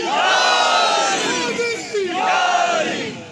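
A large crowd at a Shahzada-e-Batool religious conference in Chakwal roars the Nara-e-Haidri slogan in unison, a loud, sustained chant rising in two surging waves across a few seconds.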